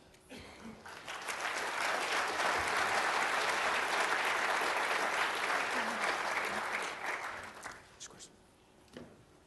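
An audience at a conference session claps to thank the panellists, a dense burst of applause that swells and holds for several seconds before fading into scattered claps.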